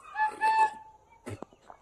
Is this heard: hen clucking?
yes